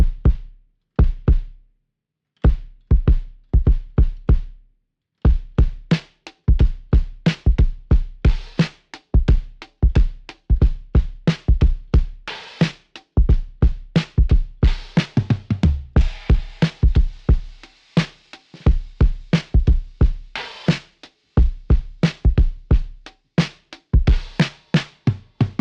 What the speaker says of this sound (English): tuning the bass drum higher than I ordinarily do on my other drum kit, to get that sort of knocky sort of kick sound